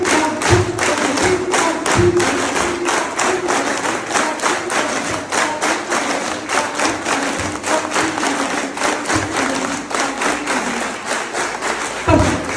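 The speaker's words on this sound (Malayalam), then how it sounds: "ആളെ ഡിസ്റ്റർബ് ചെയ്യാതെ മാക്സിമം ശക്തി കൈയടിക്കാം" A group claps hands in a repeated 1-2, 1-2-3 pattern, dense rhythmic slaps running continuously at close range in a school gathering.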